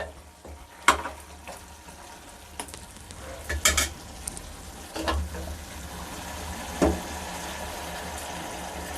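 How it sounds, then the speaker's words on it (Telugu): Water poured into a pan of simmering country chicken curry, a soft sizzle and bubbling with scattered clanks of a spoon or vessel and a few sharp knocks, close and fairly quiet with no talk. "ఇప్పుడు మనం కొంచెం వాటర్ ఇందులో వేసుకోవాలండి"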